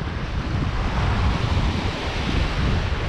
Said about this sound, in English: they've flopped the sun and the wind's picked up